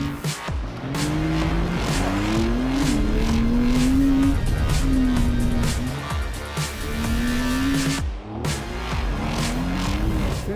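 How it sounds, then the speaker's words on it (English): A Porsche 911 (992) Delta 4x4 with ESC switched off roars loudly through a gravel pit, its engine revving up and down in sustained sweeping pitches, with tires scrabbling and skidding on loose gravel and a brief lift near the end. "It feels a bit like blasphemy to drive a Porsche through a gravel pit."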